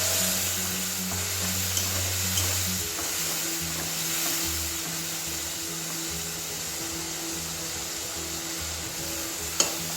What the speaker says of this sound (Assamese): এনেকৈ অলপমান মই লৰাই আছোঁ।